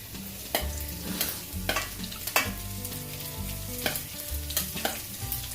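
Ginger garlic paste and green chillies sizzle and fry in a pan while being cooked for a home-style veg biryani, a steady close hiss broken by repeated clatters of stirring, with no talking.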